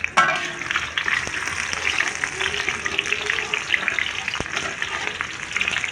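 Chopped onions lightly frying in a pan give a steady, bright sizzle throughout, close and fairly loud, with an occasional clink of utensils.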